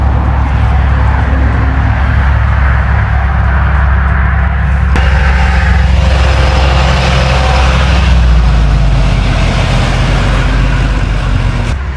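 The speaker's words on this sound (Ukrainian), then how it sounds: "Нащо такий гучний мотор робити, мені цікаво." Loud vehicle engine heard from a bicycle on a road in Sheptytskyi, Lviv region, a heavy low rumble dominating the whole stretch with a steady drone and slight shifts in pitch as it passes close by.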